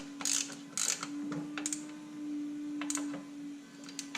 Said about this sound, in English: I really like the ratchet noise.